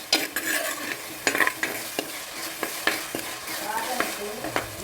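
Crushed onion, garlic and ginger fry in a new clay pot, a constant sizzle punctuated by frequent spatula scrapes and knocks against the pot, close and moderately loud.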